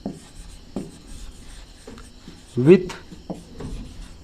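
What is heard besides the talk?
writing by hand while noting a geometry problem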